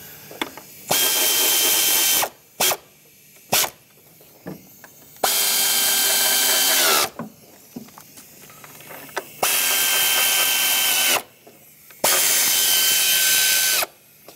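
A power ratchet runs down the valve cover bolts on a 1997–2003 Lexus ES300 during a gasket replacement, firing in loud whirring bursts of one to two seconds separated by short pauses.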